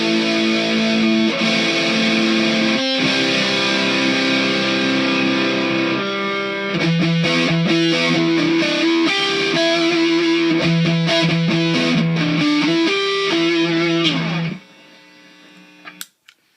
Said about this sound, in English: You crank that distortion knob, it really, really, really cranks through.